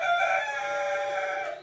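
A rooster crows once in a single drawn-out call, close and clear, with a household flock of chickens around it and no talking.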